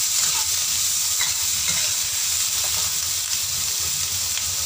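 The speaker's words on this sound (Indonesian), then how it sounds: "Kita tumis sebentar." Boiled jade squash and carrots stir-fried in a pan give a steady, close sizzle with light scraping stirs running throughout, no voices.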